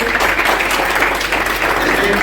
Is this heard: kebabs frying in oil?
no